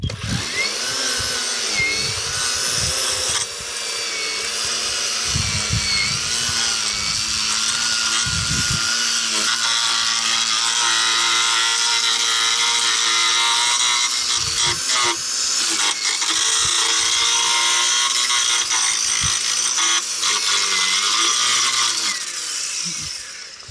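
An EGO 56-volt multi-head edger runs continuously at high pitch as its blade cuts a lawn edge along concrete, a loud, sustained whine with brief dips and surges as it bites into turf.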